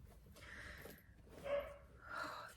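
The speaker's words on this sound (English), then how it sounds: "Oh, the dog" A dog barks indoors a few times at a moderate distance, short gruff woofs separated by pauses against a quiet room.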